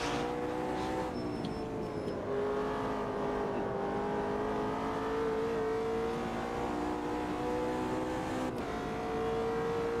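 A GT3 race car engine in the sim racing game Automobilista 2 drones steadily at sustained high revs, with a smooth continuous tone that shifts slightly in pitch and stays loud and constant throughout.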